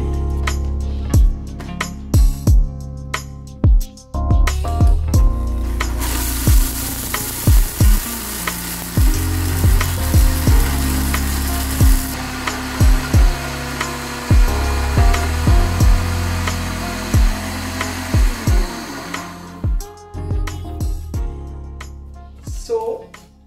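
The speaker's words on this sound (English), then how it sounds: "Cover, time to blend." An electric blender grinds alligator pepper, deseeded uda and freshly grated nutmeg into a native spice blend, giving a loud, steady whirring that builds and runs for several seconds with a voice talking over it.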